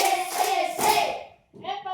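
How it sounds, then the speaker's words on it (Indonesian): Children in an Ambon classroom clap together in short bursts of hand claps, close and fairly loud, briefly dropping to silence before clapping resumes. "Dua kali tepuk semangat"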